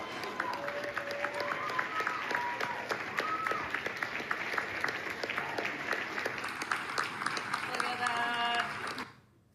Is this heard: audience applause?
yes